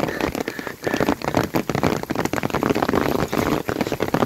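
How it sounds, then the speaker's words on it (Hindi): Heavy rain pours down in Neelum Valley, a dense, continuous hiss and patter of drops with irregular louder splashes, close and steady throughout with no clear speech. "फिर से तेज हो गई है बारिश"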